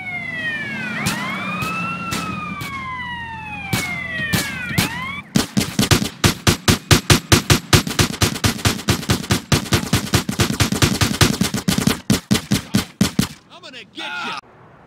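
Rapid bursts of gunfire in the video game GTA, loud, sharp and evenly spaced, follow wailing police sirens, with the shots carrying on for several seconds before stopping.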